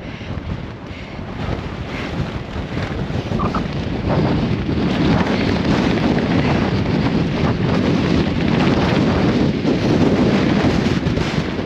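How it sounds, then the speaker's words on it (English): Strong wind buffets the microphone on a mountain pass during a Lake District ultramarathon, a loud, continuous roaring rumble that builds slightly after a few seconds and persists with no talking. "really is windy."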